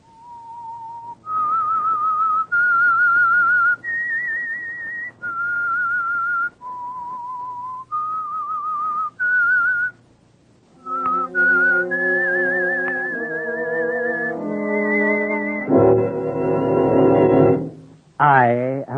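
A clear whistled melody, the theme of the radio drama The Whistler, of sustained, steady notes stepping up and down, ending with a few brighter, richer tones and a quick rising whistle.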